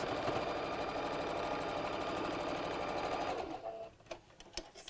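A sewing machine stitches fabric for a small Easter bunny bag, running steadily and loud for over three seconds before stopping, followed by a few faint handling clicks.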